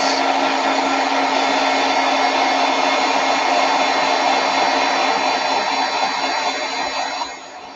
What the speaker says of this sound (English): I will give this a quick heat set.